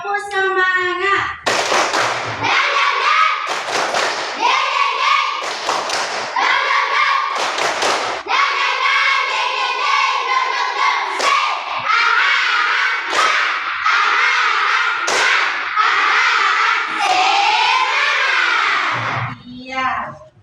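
A classroom chemistry group performs a rhythmic clapping chant, sharp bursts of hand claps in patterned beats alternating with shouted group chanting, loud and close throughout.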